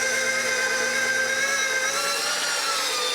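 A meat tenderizer attachment runs steak cut to about half an inch thick for chicken fried steak, giving a steady, continuous motor whir with a constant hum at close range and no talking.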